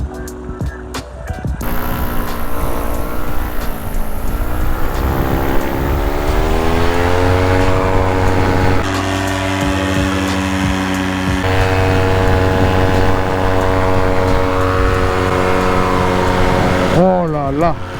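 A 27-horsepower paramotor engine drives a flight, producing a loud, steady droning hum whose pitch climbs early on and then holds as one continuous engine tone with no break.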